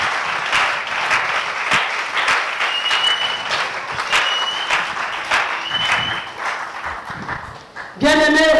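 A church congregation claps for Jesus in steady rhythmic unison, loud and close, with a voice talking over the claps and a burst of cheering at the very end.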